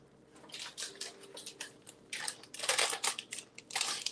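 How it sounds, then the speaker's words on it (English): Scissors snip open a plastic package of shredded mozzarella and mild cheddar in a home kitchen, making a series of crisp, crinkly cuts in short irregular bursts, close and fairly loud. "I'm gonna cut my cheese open."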